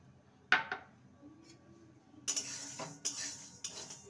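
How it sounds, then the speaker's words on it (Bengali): Sago pearls dry-roasting in a pan, with a couple of sharp utensil scrapes and clinks early on, then a run of louder stirring scrapes and rattles against the pan, close by and with no talk. "এবারে সাবুদানাগুলোকে ভেজে নেব।"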